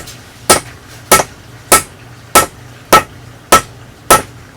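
A hammer drives a wedge into an axe haft with seven sharp, evenly spaced strikes, each ringing briefly in a quiet workshop setting with no talking.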